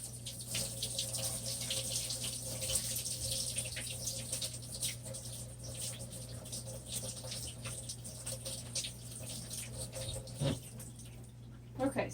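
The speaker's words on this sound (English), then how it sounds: "Let's rinse our chain off." A metal chain rinsed under a running tap: a steady close hiss of flowing water with faint clinks of the links shifting under the stream, and a few louder splashes near the end.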